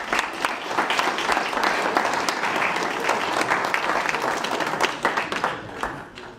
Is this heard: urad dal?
no